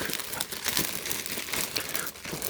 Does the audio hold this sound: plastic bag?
yes